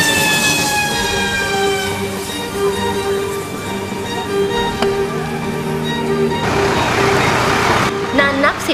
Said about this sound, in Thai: รถดับเพลิงจากองค์การบริหารส่วนตำบลวังกระแจขับออกมาใช้น้ำฉีดดับเพลิง